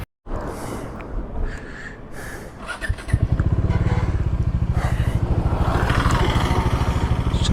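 Motorcycle riding on a Himalayan mountain road in Spiti Valley, India, on a road hit by landslides: a steady, loud engine drone with a fast even throb, building after a few seconds and holding close by to the end.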